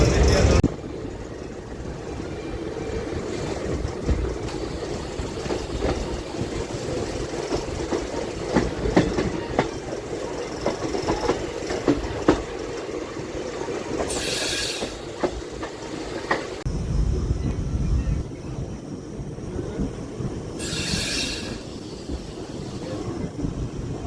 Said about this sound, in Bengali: আমাদের এই train total distance kilometre cover করে 570 কিলোমিটার